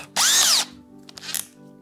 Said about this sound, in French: cette perceuse à percussion ne va fonctionner que sur des matières qui sont légèrement dures